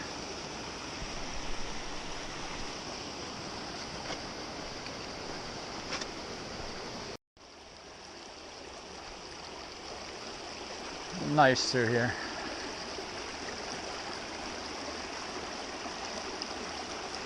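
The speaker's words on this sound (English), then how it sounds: "And there's Pipe Creek." Pipe Creek flows through Pipe Canyon in the Grand Canyon, a steady soft rush of running water heard close by, with someone speaking briefly over it.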